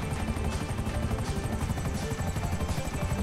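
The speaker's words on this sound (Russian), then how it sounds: "Ну все, я сел в вертолет." A helicopter in GTA V Online flies with a steady, fast rotor chop over a dense engine roar, loud and constant for the whole stretch with no talk over it.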